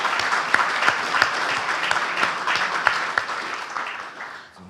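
Audience applause for a prize laureate at a laudation ceremony, a steady wash of clapping with a few sharper claps standing out, fading toward the end.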